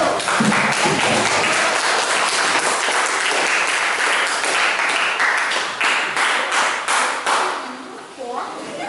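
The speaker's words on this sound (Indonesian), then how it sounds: "beri tepuk tangan untuk kelompok 1" A classroom of students applauds a student group in a geography lesson, with loud, sustained clapping from many hands that thins and fades toward the end, over faint voices.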